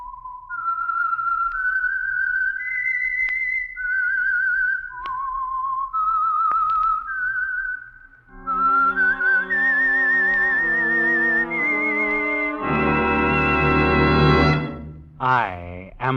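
A clear whistled tune, the opening theme of the radio drama The Whistler, a slow rising and falling melody, followed by a brief orchestral swell with sustained chords.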